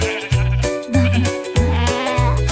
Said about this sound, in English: Mommy sheep cried ba ba ba